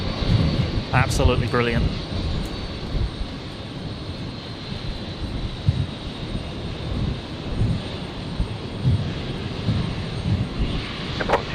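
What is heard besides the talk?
heavy jet aircraft departing runway 01 right at Brisbane Airport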